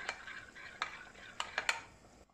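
A ladle scraping and clinking against a bowl while whisking an egg-lemon tempering sauce with hot soup broth for a carrot and vermicelli soup, a soft swishing stir broken by several sharp metallic taps, close and fairly quiet.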